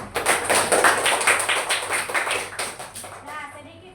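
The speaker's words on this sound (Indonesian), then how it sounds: "sekarang kita tepuk tangan lagi untuk semua kelompok yang sudah mempersembahkan hasil" A classroom of children claps for the groups who presented their dioramas, a rhythmic, fairly close burst of many small hands that fades as the clapping winds down.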